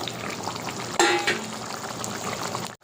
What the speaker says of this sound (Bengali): এবার ঝোল ফুটে গেছে। ভেজে রাখা মাছ দিয়ে দিলাম।